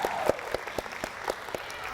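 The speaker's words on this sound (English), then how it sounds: "Hey, round of applause for her" Scattered clapping from a school audience at a captains' academy event, sparse distinct claps in an uneven rhythm rather than a full ovation, lasting about two seconds.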